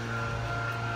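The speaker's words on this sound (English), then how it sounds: "Excuse the noise, I got my lawn people here mowing my yard right there the other day" A lawn mower cutting a yard outside gives a steady, droning engine hum with a constant pitch, loud and continuous with no talk over it.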